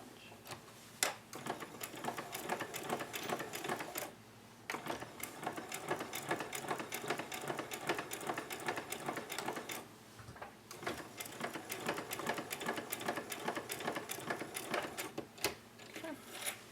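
Sewing machine stitching a homemade protective fabric mask, back-stitching and then sewing forward; a steady rapid mechanical chatter runs throughout with brief pauses near 4 and 10 seconds, close and fairly loud.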